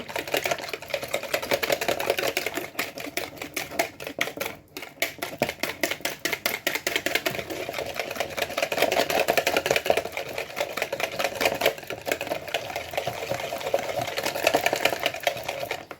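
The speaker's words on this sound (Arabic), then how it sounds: "هو حطينا البيض، ضربوه مزيان" Eggs beaten for low-carb pancakes, a continuous fast rhythmic whirring and clattering close by, steady and moderately loud throughout with no talking.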